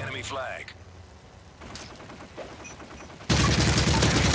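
Burst of gunfire from a 3v3 competitive shooter match, starting faint with scattered shots and then turning into a loud, dense volley near the end, mixed with game sounds and a voice.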